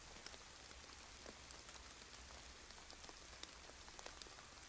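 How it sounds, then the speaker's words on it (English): Steady rain falling in Call of Duty Black Ops Cold War Zombies, an even hiss of drops pattering on surfaces with scattered sharper taps, faint and continuous without speech. "it's raining"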